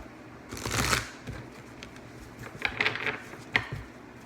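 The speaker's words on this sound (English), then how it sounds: "And I'm going to shuffle these one more time," A deck of tarot cards being shuffled close by, a soft riffle burst followed by several lighter flicks and taps, quiet with no talking.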